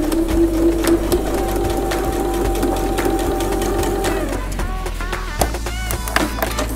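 A sewing machine stitches along a diagonal line with a steady, fast mechanical whir that stops about two-thirds of the way through. A few clicks and handling taps follow, and there is no talk.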